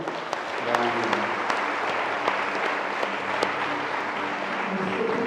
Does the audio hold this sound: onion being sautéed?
no